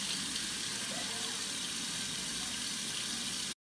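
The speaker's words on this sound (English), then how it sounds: "so now we're gonna wash it off using warm to cool water" Warm water runs steadily from a tap for rinsing a clay face mask off skin, a continuous close splashing hiss that cuts off abruptly near the end.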